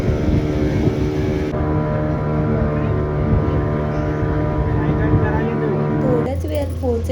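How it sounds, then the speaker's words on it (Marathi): A boat engine drones steadily on a sea crossing to a coastal fort off Malvan on the Konkan coast, a loud continuous hum mixed with wind, while people talk over it. "बोट चालू झालेली आहे."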